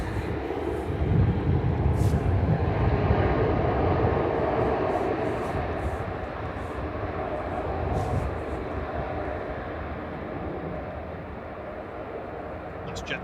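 A Qatar Airways airliner taxis at Manchester Airport, its engines a broad, steady roar that slowly fades, with faint voices and small clicks in the background.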